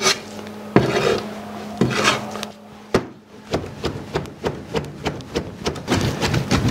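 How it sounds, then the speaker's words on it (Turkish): Meat minced with a zırh knife for Kilis kebab, heard as a run of sharp, rhythmic chopping thuds on a board, a few slow strokes at first and then quick regular blows, close and loud. "Tekrar zırhlamaya devam."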